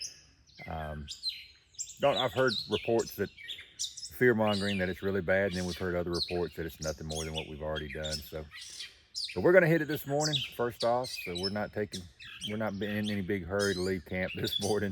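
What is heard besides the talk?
birds singing at campsite in the morning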